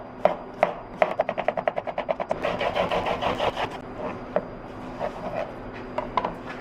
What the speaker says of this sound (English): I'm just going to cut thin slices.